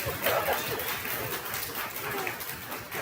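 An audience applauds at a Cahaba Medical Care family medicine residency graduation ceremony. Dense, steady clapping fills the room while a voice speaks over it.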